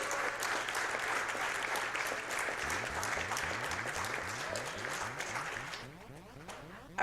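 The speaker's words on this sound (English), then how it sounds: "please give these two a round of applause" An audience applauds steadily at a speedrunning marathon event, a dense wash of clapping that thins out toward the end while a low electronic pulse runs underneath.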